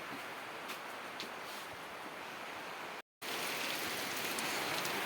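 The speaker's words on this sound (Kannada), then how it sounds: "ಆಚೆ ಕಡೆ ಜೋರು ಮಳೆ" Heavy rain pours outside on a farm, a loud, dense, unbroken roar of falling water that cuts out for a moment, then resumes just as strong.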